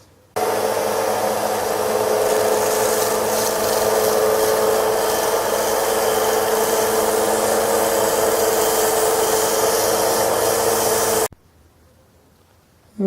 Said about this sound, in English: Now it's time to do some sanding.